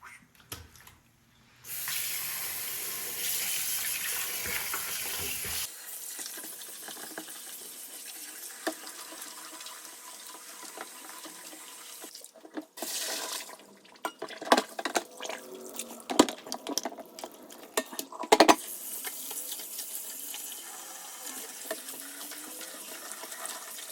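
Seitan gluten dough being rinsed under a running tap, a steady rush of water into a sink with splashes and handling noises as the flow shifts, no talking.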